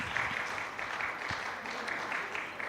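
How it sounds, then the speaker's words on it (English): Steady applause from a science and technology conference audience, a dense patter of clapping hands that holds at an even level throughout. "welcome for Professor Masayuki Yanagisawa with a ground applause."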